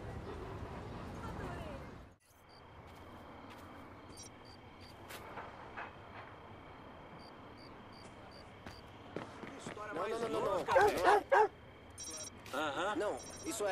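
A dog barks in the video game Watch Dogs 2, with short yaps rising toward the end over steady in-game ambience and electronic tones, and a person speaks.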